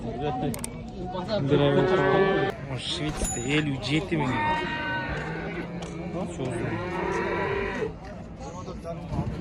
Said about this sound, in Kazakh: Сокулук мал базары